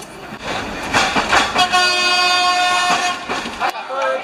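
A passenger train in Madagascar departs with a sustained horn blast over rumbling, clattering wheels, heard close from inside the single carriage while people talk nearby.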